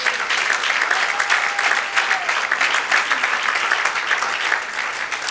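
A church congregation applauding during a sermon, dense sustained clapping from many hands filling the room evenly, with faint voices mixed in.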